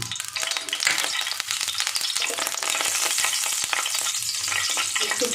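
Oil sizzles and crackles in a frying pan on a gas stove, with a dense, continuous close hiss and brief spatters and clinks, no one talking.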